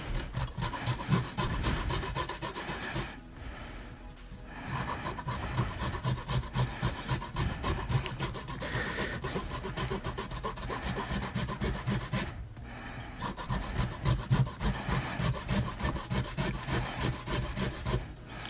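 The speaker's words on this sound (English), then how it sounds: "Just gonna grate them." Unpeeled, rinsed carrots scraped against a kitchen grater in steady rhythmic strokes, a close, raspy rubbing sound repeating over and over with brief pauses, no talking.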